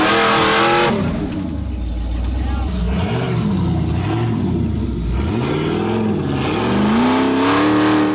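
An off-road buggy at an off-road ranch in West Virginia revs hard as it spins its tires and climbs a wall; the loud engine rises and falls in repeated surges.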